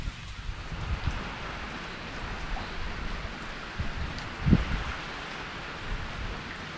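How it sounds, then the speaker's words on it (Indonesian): Heavy rain falls steadily over a swamp, a dense even hiss with scattered drops and one sharper patter or thump midway, with no talking. "Ini hujannya semakin lebat."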